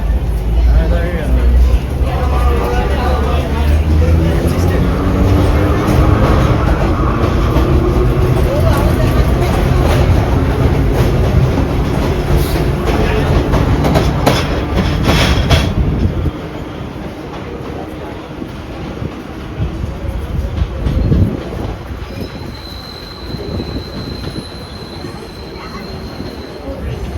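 A subway train passes at a parade of trains, loud rumbling wheels and rail noise with squealing wheel tones, fading to quieter clatter and a lingering squeal as it moves off.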